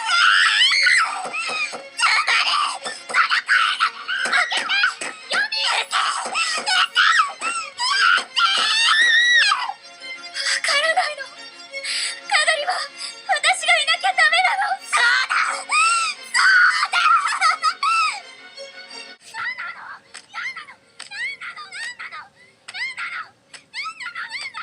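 Anime voice actresses scream and wail through Black Rock Shooter, loud frantic high-pitched shrieks with sobbing and moaning in near-continuous bursts, easing into shorter broken cries near the end.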